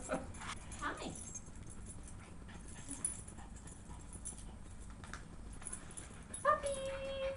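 Playing puppies give soft, intermittent whimpers and yips over a faint, busy background, with a brief louder whine near the end and people talking quietly.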